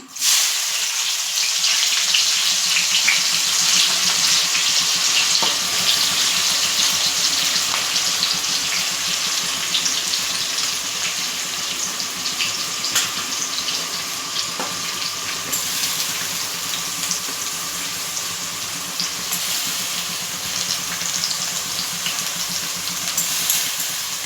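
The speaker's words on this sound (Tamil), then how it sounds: "இதை நல்லா வதக்கி விட்டுக்கலாம் ஃப்ரெண்ட்ஸ் இது நல்லா வதங்கட்டும்" Chopped onion with cinnamon sautéing in a pan for a country chicken pepper gravy, a steady loud sizzle holding without a break throughout.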